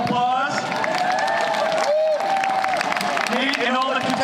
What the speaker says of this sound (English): let's go ahead and give everybody one last round of applause